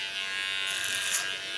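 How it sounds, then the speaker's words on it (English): An electric hair clipper buzzes steadily through very short hair during a haircut, a close, continuous hum with a slight rise in intensity as the blades bite. "Gently go in with my clipper on the line of cutting and on the connection of the upper hair and the under hair"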